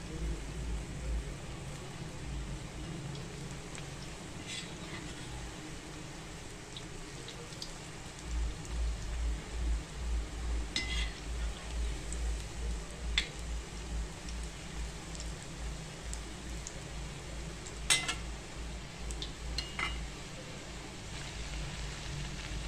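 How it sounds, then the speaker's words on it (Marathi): Bhaji fritters crackle and bubble steadily in hot oil as they are turned over, a soft continuous sizzle with a few faint clicks from the utensil. "आता अशा प्रकारे आपण ही भजी पलटी करणार आहे तेलामध्ये"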